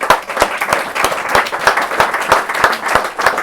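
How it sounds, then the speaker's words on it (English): A small audience at a writers' book launch applauds the young writers, a close, lively patter of individual claps with distinct sharp hits throughout and no talk. "I'd like to applaud them for what they've achieved."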